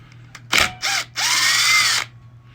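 Power tool whirring in three bursts, the last and longest about a second, as it backs out 8mm clutch cover bolts on a Suzuki DR200 motorcycle. A brief tick comes first, and the tool is loud and close with no talk.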